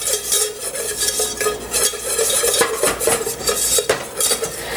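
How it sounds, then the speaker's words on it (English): A whisk stirring flour into a roux in a pan, rapid scraping clinks of metal against the pan with faint sizzling, close and continuous, no talk. "use a whisk to mix the 2 of those together and let the flour cook"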